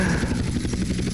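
Helicopter in the PS2 game GTA San Andreas, a fast rhythmic rotor chop with engine whine, loud and close, over a brief steady stretch.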